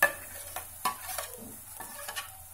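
Garam masala being stirred in a hot pan for shahi paneer, a soft steady sizzle with a few spoon scrapes and taps, close and fairly quiet, no talk.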